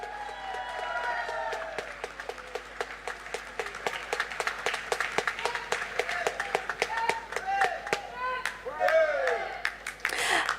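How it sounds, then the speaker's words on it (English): Audience applause fills a large venue at the closing ceremony of the 3rd North East Games in Nagaland, 2024: sustained dense clapping with scattered cheers and whistles, while a voice speaks over a PA. "A huge round of applause, ladies and gentlemen"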